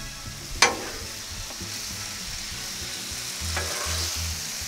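Small shrimp and sirloin steak fry on a Blackstone griddle with a steady close sizzle, opening with one sharp spatula clack and a second scrape later, no voices.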